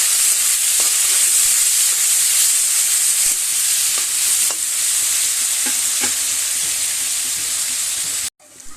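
Plain fish with small tomatoes fries loudly in a pan, a dense continuous sizzle broken by soft scraping and clinking as the pieces are stirred, cutting off abruptly near the end.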